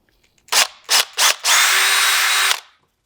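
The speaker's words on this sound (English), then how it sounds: "take the strap with the sewn in X on it, drill a hole through it." A power drill drilling through a strap on a FeelFree Lure 11.5 V2 kayak whirs in three short bursts, then runs steadily for about a second, loud and close, with no voices.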